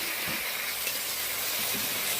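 Tomato puree hitting a hot pan of fried onions and half-split green chillies for a bhetki fish and potato curry, giving a steady close, loud sizzle with soft stirring scrapes and no voices.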